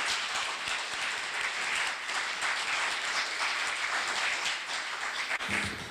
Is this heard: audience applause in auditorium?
yes